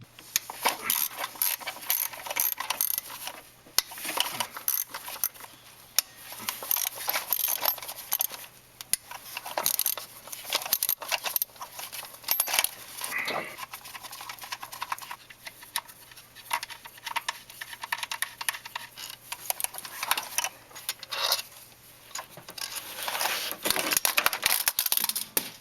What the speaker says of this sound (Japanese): 上の1本、2本、下の1本、2本を外さなきゃいけないみたいです